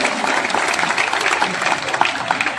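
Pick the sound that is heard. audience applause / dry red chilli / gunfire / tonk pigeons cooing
audience applause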